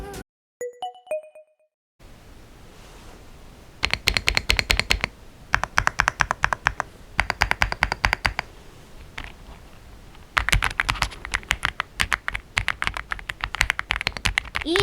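Typing on an EPOMAKER x AULA F75 mechanical keyboard: rapid, crisp, close clacking keystrokes in bursts separated by short pauses, after a brief opening chime.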